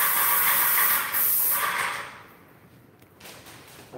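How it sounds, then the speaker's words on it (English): An airless paint sprayer coats interior walls during a DIY home renovation, giving a loud, steady hiss that fades after about two seconds into a quieter background. No one speaks. "our main goal today is spray painting the walls"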